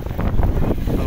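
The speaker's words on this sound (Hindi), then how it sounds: "हवा चल रही है" Loud, gusty wind roaring and buffeting close to the microphone in a continuous low rush as dark storm clouds gather.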